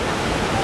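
The San Juan River near Pagosa Hot Springs rushes steadily, a loud, unbroken wash of flowing water with no gaps.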